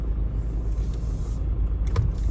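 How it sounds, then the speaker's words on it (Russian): Heavy morning traffic queuing near the 7th Kilometre market in Odesa, a continuous low rumble of car engines close by, with faint passing hiss and a brief mechanical whine near the end, no talk. "Очень много автомобилей. Все едут."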